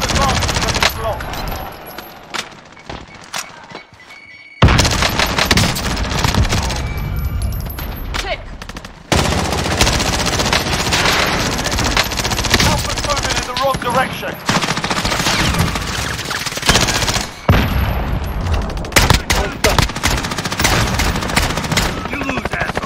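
Sustained gunfire in Call of Duty Modern Warfare Warzone, rapid automatic bursts and single shots, loud and near, continuing almost without pause, with brief quiet gaps and game voice callouts mixed in.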